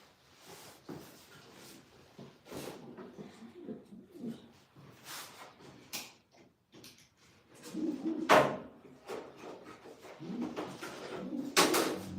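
Racing pigeons bred from Belgian national-race lines coo softly in a loft amid wing flutters, knocks and shuffling, with scattered bursts of nearby activity and quiet human presence.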